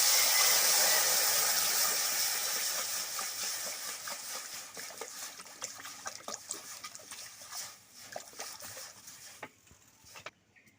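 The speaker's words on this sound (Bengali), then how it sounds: "কড়াইয়ে দিয়ে দিচ্ছি ডাল সিদ্ধর জন্য জল।" Water poured into a hot wok, just emptied of fried moong dal, sets off a loud hissing rush that gradually fades into softer bubbling and trickling, with a few faint knocks near the end.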